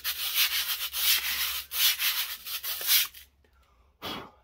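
Sandpaper rubs against a smooth metal ring-bending tool in rapid back-and-forth strokes, a loud, close, rhythmic scratching that stops abruptly near the end and is followed by one short final rub.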